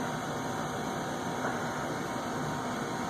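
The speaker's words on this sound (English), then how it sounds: "sorry about the noise of the furnace," Household furnace running, a steady, dense broadband roar with a low rumble that holds constant and unchanging throughout, fairly quiet and with no voices over it.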